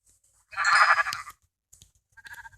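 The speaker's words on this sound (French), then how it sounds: "Oh, des moutons." A single sheep in a video game gives a loud, drawn-out bleat, followed by a quieter, shorter bleat after a pause.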